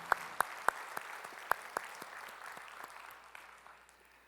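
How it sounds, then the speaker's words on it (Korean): A church congregation claps after a worship song: a few sharp, distinct claps ring out at first over a bed of scattered applause, which then thins and fades away. "우리의 찬양을 바치 주님께 영광의 박수 올리겠습니다"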